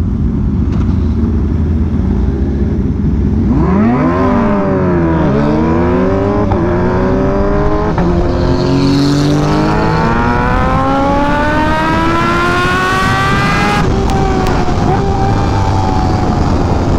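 A Kawasaki Ninja H2 motorcycle revs hard and accelerates through several gears, its loud close engine whine climbing and dropping in pitch with each shift.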